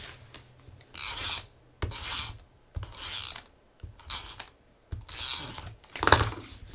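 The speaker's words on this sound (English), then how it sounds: "So I'm going to take my tape runner, and we're going to tape that down." A tape runner is pulled across paper scraps in six separate rasping strokes, each about half a second long, close and dry with brief pauses between them.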